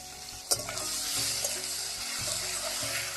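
Whole garam masala and cumin seeds with tomato sizzle in hot frying oil for a raw banana kofta curry, a sharp crackle at the start settling into a steady close hiss with soft stirring, no talking.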